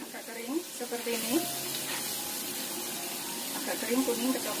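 Potato pieces frying in a pan of hot oil, with steady sizzling throughout, speech over it and a few scraping or stirring touches.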